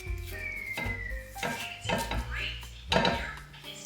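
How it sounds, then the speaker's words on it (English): Brown butter scraped and scooped from a pan into a bowl, with several close clinks and scrapes of a utensil against metal and dishes over a few seconds, plus a faint sizzle underneath. "You can scoop our brown butter right up in there."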